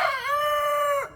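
A rooster lets out one loud, close crow lasting about a second, rising at the start, holding steady, then breaking off, with no voices around it.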